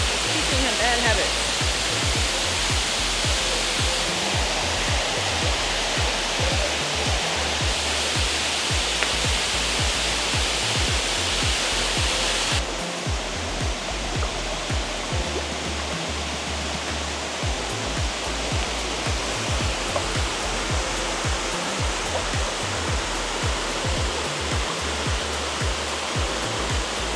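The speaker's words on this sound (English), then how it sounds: "So that was the waterfall" A waterfall on Tahiti or Moorea roars in a dense, unbroken rush of falling water, loud and close, holding steady the whole time with no voices.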